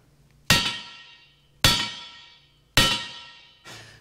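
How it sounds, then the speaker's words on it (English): Four sharp metallic clangs from a 2-pound hammer striking a post hole digger ring out one after another, each strike loud and resonant with a lingering decay, the last one lighter. "Got a 2-pound hammer."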